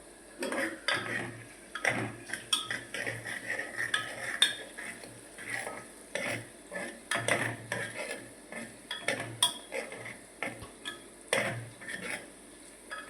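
Tindora vegetable curry with turmeric is mixed in a pan, a spoon scraping and clinking against metal in quick irregular bursts, close and fairly quiet, with no talking.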